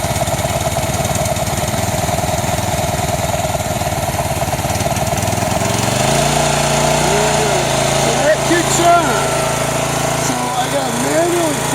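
A Ryobi pressure washer's GCV190 small engine, reported to snap back on the pull start, runs steadily with a loud, even throb, then drops to a lower idle about halfway through, with someone talking over the running engine near the end.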